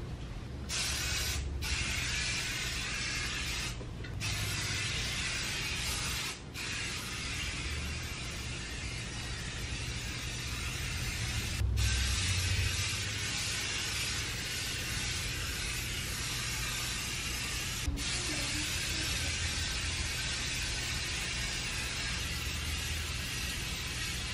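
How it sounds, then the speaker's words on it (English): An aerosol spray can hisses in a long steady stream, applied lightly indoors, with a few brief clicks and pauses along the way and no talk. "shake the can up and spray it lightly"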